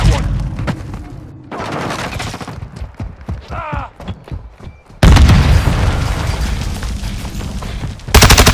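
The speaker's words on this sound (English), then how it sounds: "Throwing grenade!" A grenade goes off in a chaotic Call of Duty: Modern Warfare II firefight, a loud booming blast amid rapid gunfire bursts, with voices talking over the action.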